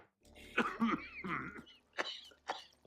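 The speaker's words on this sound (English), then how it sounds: "Healthy sounding cough" Several close coughs and throat-clearing bursts in a row, a couple of harsh hacks followed by shorter sharp coughs.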